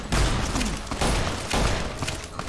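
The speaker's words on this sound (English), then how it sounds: "The vendors are gunning down someone." Vendors trading fire with Viper gang members in Fallout New Vegas with the Frontier mod, a dense fusillade of overlapping gunshots crackling in bursts with short lulls between volleys.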